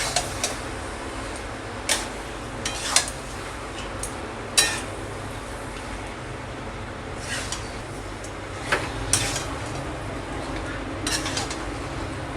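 A spoon knocks and clinks sporadically against a pot as chicken pieces are turned through spiced oil for a red chicken curry, with sharp isolated taps separated by quiet stretches.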